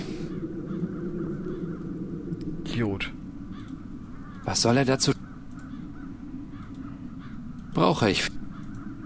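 Crows caw in the video game Satinavs Ketten: three loud, rasping caws ring out spaced several seconds apart, while someone talks over the game's background music.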